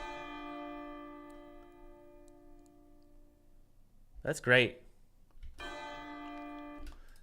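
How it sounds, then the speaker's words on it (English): A church bell sound effect being prepared for a video game rings and slowly decays, then a voice speaks briefly before a second bell strike rings out. "we're just going to do the bell sound for now."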